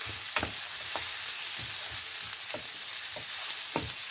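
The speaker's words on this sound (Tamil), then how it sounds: "லோ ஃப்ளேம்லேயே வச்சு இதை நல்ல வடிவாக வதக்கி கொள்ளுங்கோ." French beans with dried chillies and chilli powder frying on a low flame, a constant hiss broken by regular, rhythmic scraping stirs close by.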